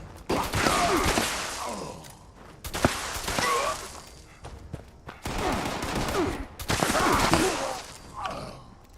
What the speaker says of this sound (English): They are shooting in my turrets.